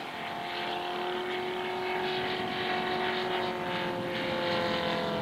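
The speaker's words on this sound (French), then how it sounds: "magnifique boucle du Stearman PT-17" A model Stearman PT-17 biplane flies a loop at a model aircraft meeting in St Macaire, its engine droning steadily with a strong tonal whine that swells and shifts slightly in pitch as it passes through the manoeuvre.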